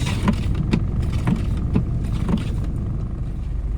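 A car engine idles steadily nearby, with frozen windscreen wipers, amid many other cars, with a few soft knocks and clicks over the continuous rumble.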